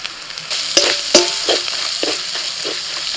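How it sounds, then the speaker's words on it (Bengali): Turmeric, coriander, cumin and red chilli powder fry in oil with ginger-garlic paste as a spoon stirs them around a pan. Sharp scraping strokes recur over a continuous close sizzle. "মশলাটা হালকা করে নাড়াচাড়া করে দিয়ে দিচ্ছি"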